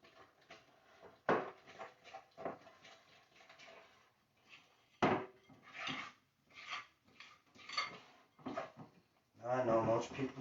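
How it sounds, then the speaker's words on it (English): A spoon scrapes and clacks against a bowl in uneven bursts as a cracked egg is mixed by hand into cake batter, close up, with gaps of near-silence between strokes. "Now we're going to mix that in."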